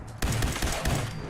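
Gunfire in the video game Fallout 4: several loud, close shots in quick succession, sharp bursts each followed by a short decay.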